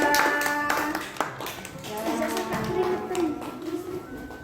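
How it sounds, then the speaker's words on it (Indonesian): Students in a classroom clapping for a group that has just presented, scattered hand claps mixed with children's voices and chatter, moderately loud throughout. "Tepuk tangan buat kelompoknya Iza."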